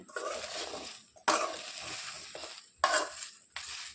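Okra fries in a pan for a curry, giving a soft, close sizzle broken by scraping stirring strokes that come in bursts with brief pauses between them.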